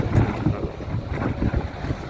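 Strong gusting wind ahead of an approaching rainstorm at a muddy pond-side track where trucks climb a steep bank, roaring and buffeting steadily with rumbling low gusts and no talk.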